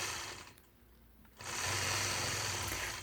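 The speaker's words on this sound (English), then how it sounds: "stitching point to point all the way up to the opposite side of the block" Sewing machine stitching point to point across a quilt block, running steadily for a short burst, pausing near silent, then starting again with a close, even mechanical whir; no talking.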